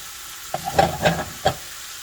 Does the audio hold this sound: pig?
no